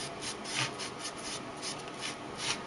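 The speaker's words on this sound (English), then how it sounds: "So I'm just kind of rubbing it" Steady rubbing of a mirror surface being worn down to look old, a soft continuous rasping scrape with gentle rhythmic strokes, close and fairly quiet, with no talking.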